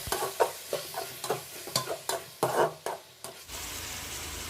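Biryani masala with mint and coriander leaves is stirred in a hot pan with a spoon, giving a close series of rhythmic scraping strokes over a soft sizzle, ending in a steady frying hiss.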